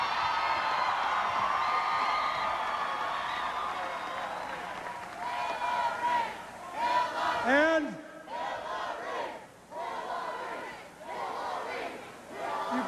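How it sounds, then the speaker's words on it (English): Large crowd at a 1992 election night victory rally roaring and cheering in waves, with whoops and clapping; someone speaks through a public address system between the surges, which swell loudly and then fade. "you can cheer for her."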